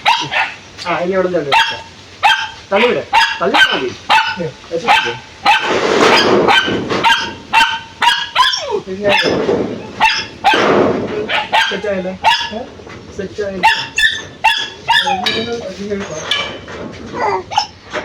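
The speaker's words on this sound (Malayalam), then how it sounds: "ഇവിടെ ഭയങ്കര പട്ടിശല്യ" Dogs bark repeatedly in sharp, loud bursts close by, with some yelping, mixed with people talking throughout.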